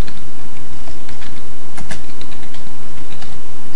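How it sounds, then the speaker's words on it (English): Rapid clatter of a loud computer keyboard being typed on, dense irregular key clicks close up and recorded very hot, with no talking. "Excuse my keyboard if it's kind of loud."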